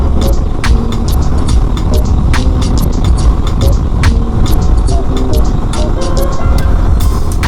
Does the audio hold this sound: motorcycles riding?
yes